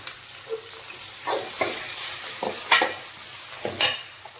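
Onions and curry leaves fry in a pan for puri kurma, a steady sizzle broken by several sharp scraping stirs of a utensil against the pan, close and fairly loud with no talking.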